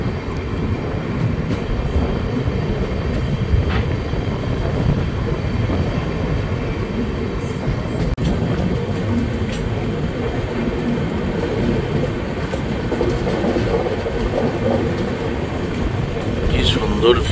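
The 13126 Sairang Kolkata Tri-Weekly Express running on its first commercial journey, a loud continuous rumble of wheels on rails heard from inside, with faint squeals and clicks throughout.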